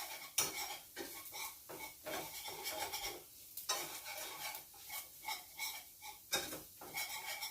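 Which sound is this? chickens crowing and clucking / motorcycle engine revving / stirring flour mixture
stirring flour mixture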